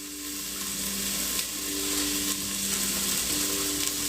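Beef bones sear in a hot pan for beef stew, giving a close, steady sizzle and crackle with small shifts as pieces move.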